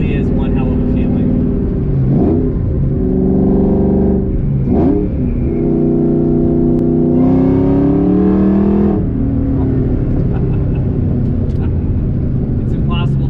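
A Whipple-supercharged 800-horsepower Ford SVT Cobra accelerates hard: loud, close engine roars through rising revs and gear changes, with a voice talking over it.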